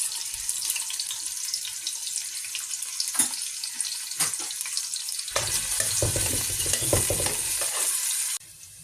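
Sliced onions frying in a pan with whole peppercorns, cinnamon, cardamom and cloves give a steady broadband sizzle with a few sharp crackles, swelling louder and denser partway through before dropping off abruptly near the end; no voices.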